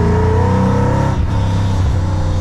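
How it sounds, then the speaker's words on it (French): A car engine from Dubai running with a strong compressor whine, loud and close, a sustained rising and falling drone with a brief dip midway, no speech. "Ah, puis le compresseur, là, on l'entend bien"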